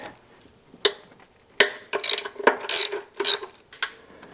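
Ratchet clicking off 10 mm intake bolts on a 2003 Ford Mustang GT V8 engine during a top-end rebuild: sharp isolated clicks, then bursts of rapid close ratcheting, loud and near with no talk.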